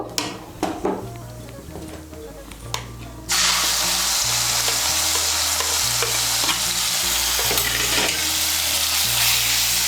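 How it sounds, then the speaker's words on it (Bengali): Whole cumin seeds tempering, then a prepared spice paste added and frying for Bengali aloo dum: a quiet stretch with a few clinks gives way to a loud, steady sizzle and scraping stir under low pan scrapes throughout. "ফোড়নটা দিয়ে একটু নাড়াচাড়া করে নিয়ে আমি যে মশলার পেস্টটা তৈরি করে নিয়েছি সেই পেস্টটা দিয়ে দেব"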